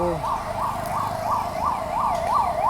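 An ambulance siren wails on a Bengaluru street, rising and falling in a fast regular cycle, fairly loud and close over traffic noise, with no talk.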